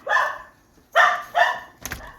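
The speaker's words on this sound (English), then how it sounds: "had to close the door with the dogs going crazy" Dogs bark loudly at close range in three sharp bursts, then a shorter yip, with quiet gaps between them and no voices.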